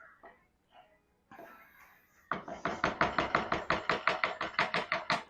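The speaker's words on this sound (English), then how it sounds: "just give it a quick stir" A spoon stirs chili in a pot with quick, rhythmic scraping strokes, about four per second, close and fairly loud. A few quieter knocks come first, then a short pause.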